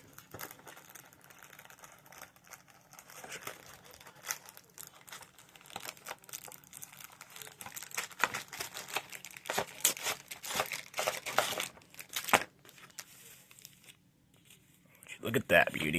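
Beyblade Burst B-197 Divine Belial sticker sheet handled at close range, with soft crinkling, light peeling and tapping sounds running on and off for several seconds, growing busier toward the end.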